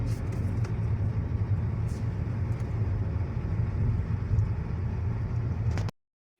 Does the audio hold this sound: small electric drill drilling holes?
no